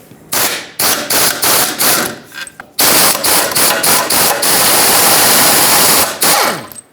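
Power tool, likely an impact wrench, spinning out engine mount bolts through the cross member on a 2008-2020 Dodge Grand Caravan: loud, close bursts of rapid hammering, repeated in several short pulses and then a longer sustained run.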